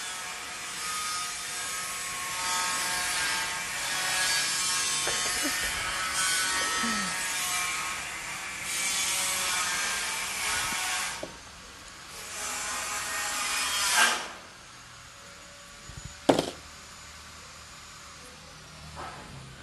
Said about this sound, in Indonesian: di sini agak susah ya berbincang-bincang karena suara pembangunan yang terjadi